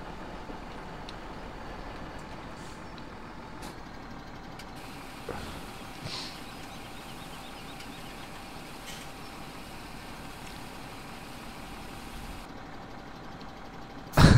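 A tractor engine in a farming video game runs at a steady idle, a continuous low droning hum with a few faint clicks and a sharp knock at the very end.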